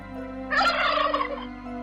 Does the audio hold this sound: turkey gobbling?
yes